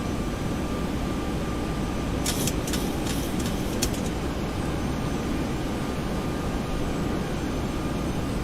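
Boeing 737-800 engines in the X-Plane 11 flight simulator give a steady, broad jet roar on final approach, with a few faint clicks partway through.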